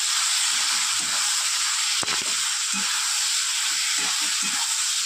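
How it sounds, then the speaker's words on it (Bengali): Prawns with ridge gourd, ground cumin, coriander and salt sizzle in a pan with a steady, dense hiss throughout, joined by soft scraping stir strokes and one sharp clink midway. "এবার খুব ভালো করে কষিয়ে নেব।"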